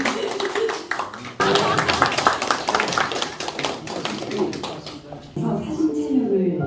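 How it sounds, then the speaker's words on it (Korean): Audience claps in thanks at a book launch ceremony in Hongcheon, uneven rounds of hand clapping that swell and fade in bursts, with murmured voices in the room. "여러분 감사의 박수 좀 부탁드리겠습니다."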